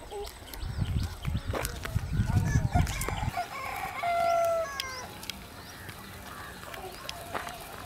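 Free-range country chickens (Aseel) cluck and call around a farmyard while a rooster crows nearby, with scattered bird sounds and some low rumbling noise early on.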